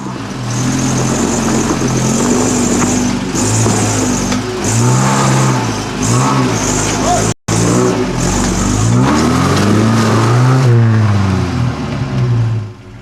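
A 4WD vehicle's engine revs hard and repeatedly while it claws up onto a boulder, loud rising and falling surges with one abrupt cut-out partway through, close by.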